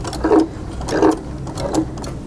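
A sewing machine stitches a fabric coupon wallet with a soft rhythmic chug, about three quick bursts of needle strokes, close and steady with no talking.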